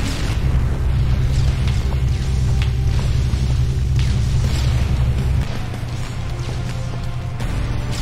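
Bombs going off in a chaotic Broforce side-scrolling shooter battle, a loud continuous low rumble of repeated blasts that thins out near the end, with small bursts crackling on top and no talk.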